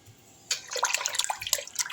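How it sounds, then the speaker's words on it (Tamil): Pineapple pieces are washed in water, with sloshing and splashing that starts abruptly halfway through and continues in close, irregular bursts with no talk. "ஒரு தண்ணியில் கழுவுனா போதுங்க."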